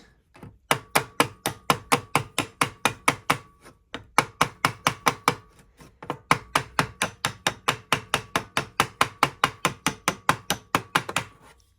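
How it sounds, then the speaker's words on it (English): Small hammer gently tapping a piece of flat steel to dress out dents, near an engine: a long, steady run of quick metallic taps in close succession, with two brief pauses, loud and close with no talk. "I've just got a bit of flat steel and a hammer, and I'm just ever so gently"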